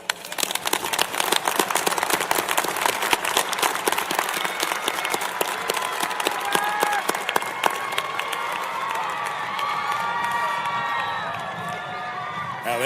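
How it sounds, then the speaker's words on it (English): Loud, dense applause from the audience at the 2024 Air Force Academy graduation ceremony, sharp claps packed tightly with cheers and whoops, easing into a softer crowd roar near the end. "let's give them a huge round of applause"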